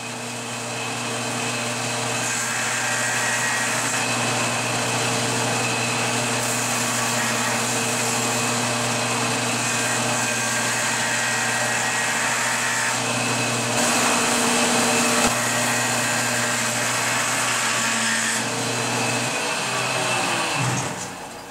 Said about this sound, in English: I'm going to run one edge through the joiner to straighten it.